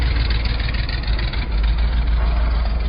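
A 1979 Dodge Lil Red Express truck engine running, a loud steady low rumble held throughout with no voices.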